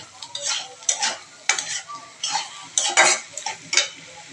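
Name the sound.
noodles being stirred and fried in a pan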